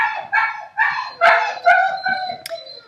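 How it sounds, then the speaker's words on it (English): Dogs bark and howl in several bursts across a few seconds, fairly close and loud, with yips and drawn-out tones, heard alone with no talk over them. "There go my dogs."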